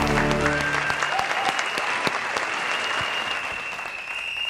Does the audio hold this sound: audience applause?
yes